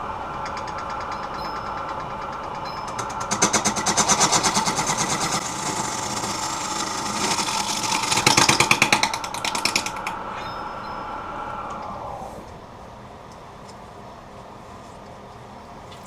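A wood lathe spins a live edge black poplar piece while a spindle gouge shapes the foot tenon, giving a steady whirring drone with rising rough cutting noise that swells, then drops away near the end.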